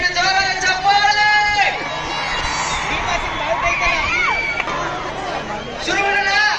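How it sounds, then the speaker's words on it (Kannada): A festival crowd at Kurugodu cheers and shouts loudly, with a dense babble of voices and whoops swelling at the start and again near the end. "ದಯವಿಟ್ಟು ಜೋರಾದ ಚಪ್ಪಾಳೆ"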